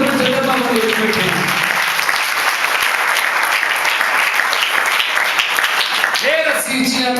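A church congregation claps in unison during a pastor's sermon, dense loud rhythmic applause filling the room, with a voice speaking at the start and end.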